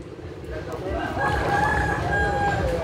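Roosters crowing repeatedly amid flooding from a high tide in Long An, with long strained calls over a noisy background of water and clucking chickens; a voice talks faintly underneath.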